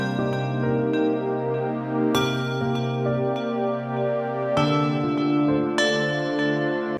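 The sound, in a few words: MPC beat with piano and layered pad chords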